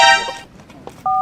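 Two telephone keypad tones beep, a longer one first and then a shorter one, near and clear against a quiet room with faint background noise.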